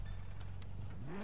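A sports car engine revs through its exhaust in the video game Need for Speed, a short rising rev climbing over a low idle.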